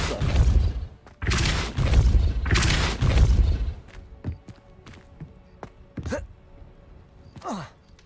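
A Depulso spell fires in the Hogwarts Legacy video game: a few heavy, loud whooshing blasts with thuds, then sparser sharp hits and zips trailing off.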